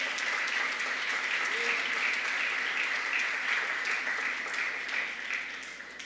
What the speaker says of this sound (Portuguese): Dá um aplauso forte